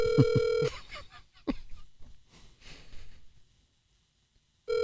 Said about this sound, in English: Don't nobody want to pick up the phone tonight.